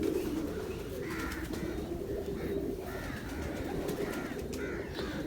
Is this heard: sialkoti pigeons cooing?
yes